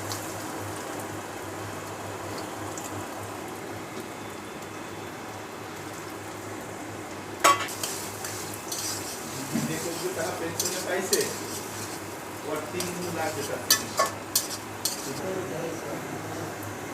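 Onion and garlic frying in white cooking oil, a steady low sizzle under stirring, with a spoon scraping and clinking against the pan in bursts during the second half.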